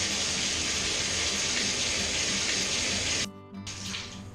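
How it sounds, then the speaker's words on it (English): Water runs steadily from a leaking Moen bathroom faucet with a worn cartridge, a close continuous splashing stream that cuts off abruptly near the end, leaving a softer trickle. "You see these drips here?"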